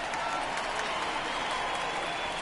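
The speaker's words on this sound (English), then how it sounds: "This is this crowd on their feet at the moment." Steady roar of a stadium crowd cheering and clapping in MLB The Show 19, the baseball video game, holding a dense, even wash of noise throughout with no voices rising above it.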